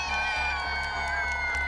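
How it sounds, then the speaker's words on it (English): A crowd of spectators cheers and whoops continuously at a footrace held at an African lion safari park in Hamilton, Ontario, a steady loud roar with children's shouts mixed in. "So I want you all cheering as loud as you can."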